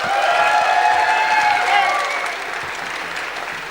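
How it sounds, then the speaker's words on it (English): A hackathon conference audience breaks into loud, dense applause that fades gradually toward the end, with faint crowd murmur underneath. "Give them a round of applause."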